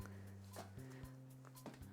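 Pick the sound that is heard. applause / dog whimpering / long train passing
dog whimpering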